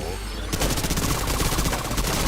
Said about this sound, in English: So when you are using SMG, so machine gun, you need to be moving as much as possible, shooting as